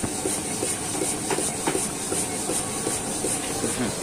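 A pumped pressurized burner roars steadily under a pot while cooking goat dinakdakan outdoors, a constant close hiss with faint rhythmic clicks and knocks throughout.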